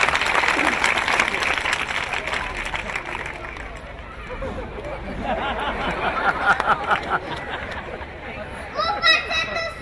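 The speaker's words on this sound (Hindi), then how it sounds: "जोरदार तालियां बच्चों का।" A group of children clapping loudly at a village gathering, the dense applause fading a little midway before picking up again, with chatter and a voice joining near the end.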